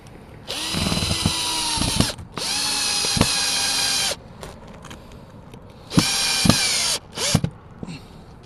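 Cordless power drill driving a screw back in during a satellite dish mount install, three loud whirring bursts of about one to two seconds each, separated by brief pauses and clicks.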